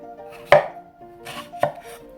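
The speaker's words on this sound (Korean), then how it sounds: "자, 먼저 오이는요 6cm 길이로 자를 거예요." A knife chops through cucumber on a cutting board, cutting it into 6 cm lengths for Korean stuffed cucumber kimchi: two sharp, close thuds about a second apart, with faint handling noise between and no talk.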